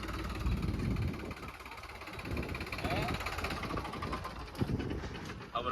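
A tractor engine runs steadily while the machine is lifted in a stunt, a continuous mid-low rumble at close range with people talking over it.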